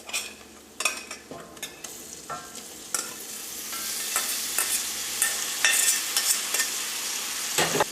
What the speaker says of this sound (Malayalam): ഇതെല്ലാം കൂടിയിട്ട് നമുക്ക് നന്നായിട്ടൊന്ന് മിക്സ് ചെയ്യാം.